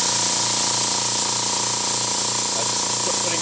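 A Direct Air freewheel unloader valve venting air pressure gives a loud, steady, broadband hiss that holds unbroken throughout, with a faint low pulsing hum beneath it.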